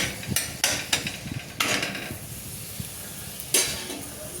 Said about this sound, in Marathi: छान लाल होईपर्यंत मस्त भाजायचा पराठा बारीक गॅसवर